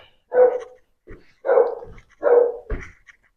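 A dog barks four times in separate bursts with short pauses between, fairly clear against a quiet background.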